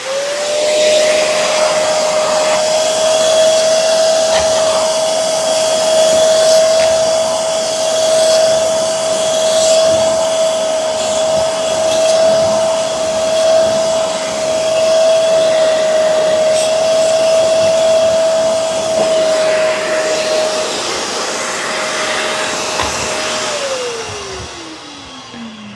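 A Shark CarpetXpert spot cleaner runs with a steady motor whine and airy suction roar, holding constant before winding down in pitch near the end.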